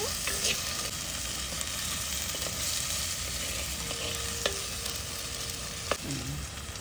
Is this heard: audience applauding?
no